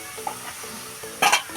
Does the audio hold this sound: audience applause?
no